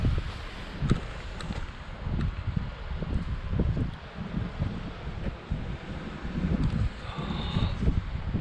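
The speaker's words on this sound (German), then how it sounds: "und Wind" Gusty wind outdoors in drizzly fog, buffeting the microphone in uneven low rumbles and flutters with rustling, fairly close and continuous.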